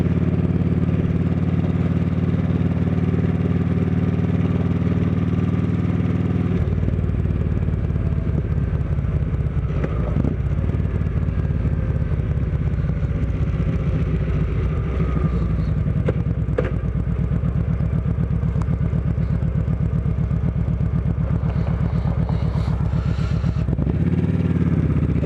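A Kawasaki Vulcan Vaquero bagger motorcycle with aftermarket pipes rumbles steadily and loudly while being ridden, a deep continuous engine drone that shifts pitch around mid-ride as gears change, with some wind and clatter and no talking.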